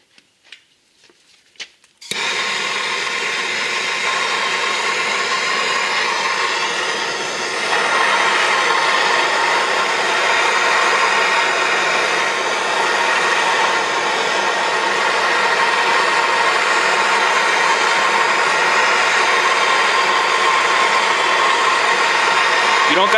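Propane torch roaring steadily and close as it heats Loctite-locked rear brake caliper bolts on a 2015-20 Hyundai, the broadband hiss starting abruptly after a brief quiet moment and holding continuously.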